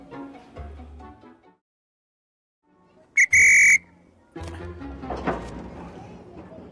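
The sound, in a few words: old LNER railway station master's whistle blown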